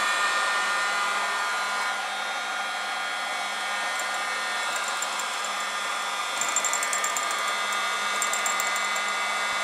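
A hair dryer on its lowest setting blows hot air onto a Stirling engine, a steady loud whirring hum throughout, with faint light rhythmic ticking appearing in the latter half.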